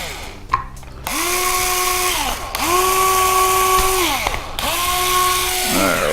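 A cordless drill motor drives screws into battery mount lugs in three sustained runs, each whine rising quickly to a steady pitch, holding for about a second and a half, then winding down, with clicks and handling noise between bursts.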